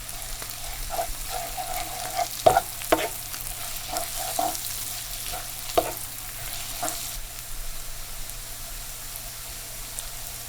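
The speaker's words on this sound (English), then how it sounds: "all my zucchini is all done, and it's been colored and nicely sauteed" Zucchini sautéing in a pan for a Persian zucchini frittata, a steady low sizzle with repeated scraping and stirring clicks from a utensil, close by with no talk.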